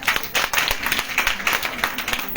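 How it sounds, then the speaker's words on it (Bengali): An audience claps at a question-and-answer event, a short burst of brisk, fairly close applause with overlapping hand claps throughout. "আপুর জন্য আরেকটা করতালি হয়ে যাক।"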